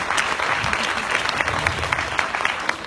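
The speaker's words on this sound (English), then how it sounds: "Let us give a round of applause to the Global Peace Foundation." A crowd claps for the Global Peace Foundation, steady applause from many hands with a few sharper individual claps standing out, filling the whole stretch.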